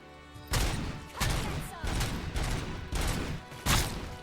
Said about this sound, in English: how do you fit 50 bullets that can like tear up pillars like this?